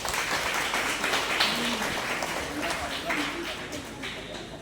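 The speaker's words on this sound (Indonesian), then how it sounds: "Berikan tepuk tangan" Applause from the audience at a student union discussion on a peaceful 2024 regional election, a steady wash of clapping held at an even level with some speech mixed in.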